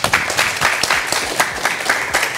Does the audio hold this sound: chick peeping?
no